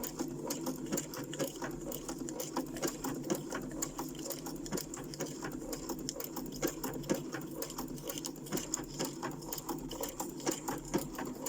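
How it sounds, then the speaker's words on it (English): An automatic sewing machine on its lowest speed setting stitches fabric for embellishment clusters, a quiet, steady, rapid mechanical patter running the whole time with no talk. "I'm going to put my needle in the edge and then let it sew."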